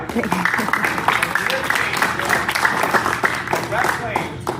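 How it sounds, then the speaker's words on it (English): Audience of young wrestlers applauding a guest speaker, a continuous wash of many hands clapping close by, with voices and cheering over it. "Hey, big round of applause."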